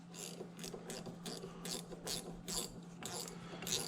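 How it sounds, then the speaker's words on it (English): A 7/16 wrench winds a nut onto a threaded stud during reassembly of a Jaguar MKII, giving a series of quick ratcheting clicks in short bursts, close and fairly quiet over a low steady hum. "Grab your trusty wrench."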